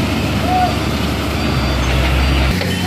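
A tow truck idles and rumbles close by while preparing to recover a truck that crashed into a tree, with steady engine noise and people talking over it.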